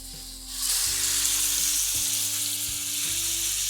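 Beef dropped into hot browning butter bursts into a loud, steady sear sizzle after a quieter start, continuing strongly with a low hum underneath.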